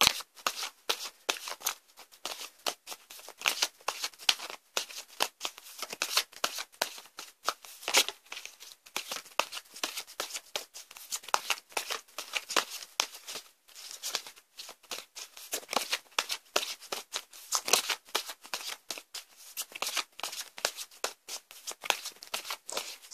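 Tarot cards being shuffled continuously, a steady run of quick crisp riffling flutters and soft card slaps, close and fairly quiet with no talking.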